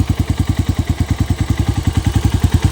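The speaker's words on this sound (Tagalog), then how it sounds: "Ang tahimik pa ng makina." A rebuilt motorcycle engine idles smoothly and quietly, its low exhaust chugging in an even, steady rhythm close by, with no talking over it.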